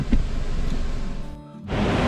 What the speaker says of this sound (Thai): นี่น้ำตกอยู่ฝั่งซ้ายมือ ลองฟังเสียง ดูฟังเสียงสิ